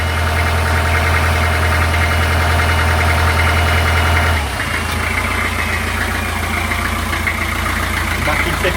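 A Beta 43 narrowboat diesel engine runs steadily with a deep low hum, then its pitch and texture shift partway through as the revs are increased, continuing close and loud.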